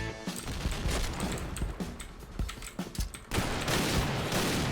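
Rapid gunfire in a PUBG match, a dense continuous stream of loud cracking shots with brief gaps, close and harsh throughout.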